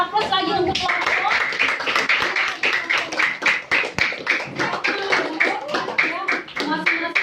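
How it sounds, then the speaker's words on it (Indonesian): A group of people applauds a winning team at a 2023 gathering, steady hand clapping running throughout with a voice speaking loudly over it. "beri aplaus lagi untuk kelompok"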